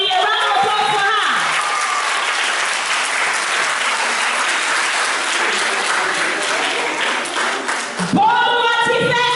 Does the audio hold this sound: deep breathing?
no